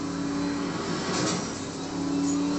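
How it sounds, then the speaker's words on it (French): A steady car engine drone in a Need for Speed: Most Wanted video game holds throughout with a faint rise near the end, a continuous mid-pitched motor hum with no talking. "Non, c'est le bruit du moteur."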